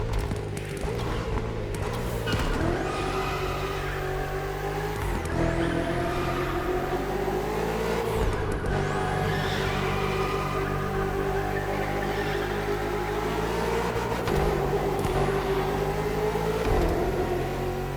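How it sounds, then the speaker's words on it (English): A BMW M5 CS with over 900 horsepower, driven without assists in an all-wheel drift, its engine roaring and revving hard in repeated surges close to the microphone, loud and continuous with brief dips between gear changes. "We can kind of all-wheel drift this thing."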